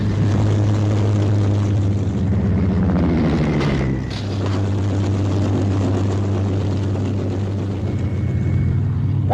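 Propeller engines of Hawker Sea Fury fighters drone loudly and steadily as the planes land on an aircraft carrier, with one engine note dropping and shifting midway through.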